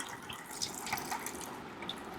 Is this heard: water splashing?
yes